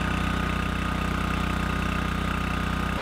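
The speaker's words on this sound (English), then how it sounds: "I went and bought a portable generator" A Furman portable generator runs loud and close at a steady drone at a winter campsite by a gun range, holding constant for about three seconds before cutting off abruptly at the end.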